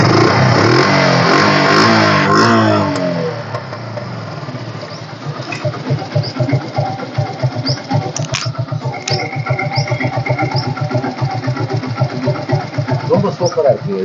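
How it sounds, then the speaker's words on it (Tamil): Someone speaks over the start of a green special-edition 2015 Yamaha FZ motorcycle, then the single-cylinder engine settles into a steady, close, even idle with regular pulsing beats. "க்ரீனில் ஸ்பெஷல் எடிஷனில் இது யமாகா FZ. ஸ்டார்ட் பண்ணி காமிக்கிறேன் பாருங்கள்."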